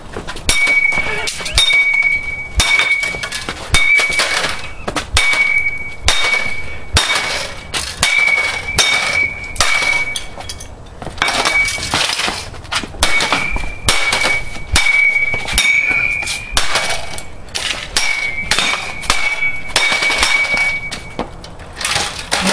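An aluminum bat smashes an Xbox 360 console with the red ring of death, giving repeated loud clanging, cracking blows in a fast, irregular rhythm for the whole stretch.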